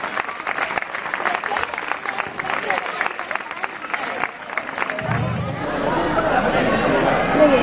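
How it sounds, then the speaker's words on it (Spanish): Outdoor crowd applause at the awards ceremony of a 10K running race in Orihuela, with clapping mixed with chatter that swells louder and more continuous toward the end. "Ese aplauso para ellos."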